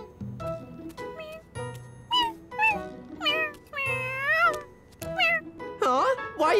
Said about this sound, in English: This kitty came to take something.